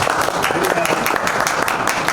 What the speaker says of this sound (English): I really thank Rohit for his effort, and give a big clap to Rohit for his wonderful effort.